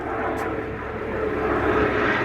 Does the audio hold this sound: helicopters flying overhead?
yes